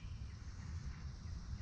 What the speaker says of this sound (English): these cicadas, you can probably hear them in the background.